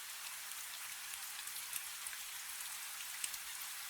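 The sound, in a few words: rain falling on a roof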